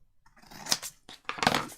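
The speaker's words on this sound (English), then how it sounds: "so I'm just going to cut that off" Scissors snip off the point of folded paper for a junk journal page. Two or three quick, close cuts with a light papery rasp, and nothing else around them.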